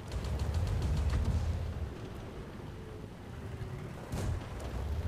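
A tank cannon fires in the World of Tanks video game as a heavy, rumbling boom, followed by a fading low roar and a second, sharper report later on, loud and close.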